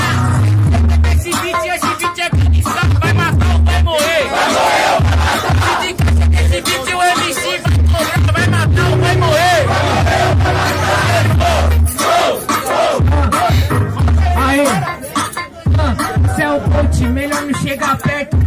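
Audience at a Brazilian freestyle rap battle, loud and close, shouting and chanting together in rhythmic bursts, a dense roar of many voices that stays strong almost throughout with brief dips.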